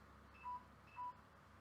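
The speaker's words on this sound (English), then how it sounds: "And that's my phone battery dying." A phone's low-battery warning sounds as two short, clear electronic beeps about half a second apart, quiet and isolated over a soft background hum.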